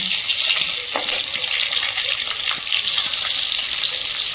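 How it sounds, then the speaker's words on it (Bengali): Radhuni seeds, bay leaf and slit green chilies sizzle in hot oil in a karai, a steady close crackling hiss with small pops scattered throughout. "কড়াইতে তেল দিয়ে দেব তেলের মধ্যে দিচ্ছি রাঁধুনি তেজপাতা চেরা কাঁচা লঙ্কা"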